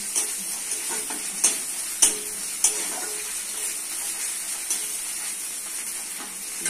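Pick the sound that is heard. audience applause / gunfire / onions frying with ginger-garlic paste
onions frying with ginger-garlic paste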